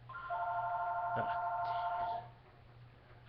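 A telephone rings indoors during a live Q&A, giving a steady electronic tone for about two seconds before it cuts off, leaving a low background hum.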